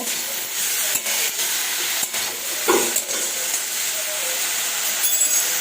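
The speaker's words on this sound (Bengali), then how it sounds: "অল্প ভাজা ভাজা যখন হয়ে যাবে তখন শাকটি ঢেলে দেব" Oil sizzles in a pan ahead of adding bethua greens, giving a steady close hiss broken by a few soft stirring knocks, with no one talking.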